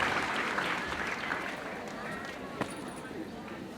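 Spectators at a school cadet drill parade applaud as the parade adjutant marches forward, a broad outdoor wash of clapping and crowd noise with voices mixed in, fading slightly toward the end.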